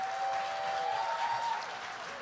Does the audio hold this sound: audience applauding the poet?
yes